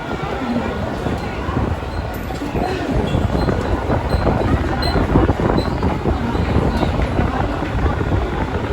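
A Mumbai local train rumbles steadily along the line between Matunga and Parel, a loud continuous roar of wheels and carriage noise with people talking over it.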